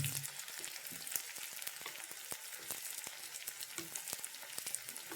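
Chopped onions frying in hot oil in a pan for a meat curry, a busy crackling sizzle with sharp pops and scraping stir strokes throughout.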